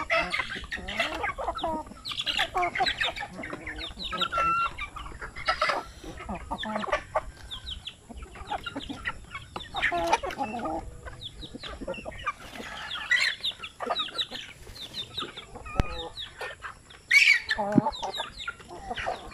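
Farm chickens and roosters raised for meat, busy overlapping clucks and squawks with an occasional louder call, close and continuous.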